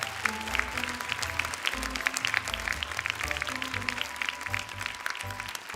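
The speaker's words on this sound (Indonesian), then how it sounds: "boleh tepuk tangan semangat untuk mereka semuanya" An audience applauds contestants at a televised Indonesian Quran recitation competition, the Hafiz Indonesia 2026 show, with steady clapping from a studio crowd under low musical tones and a few scattered voices.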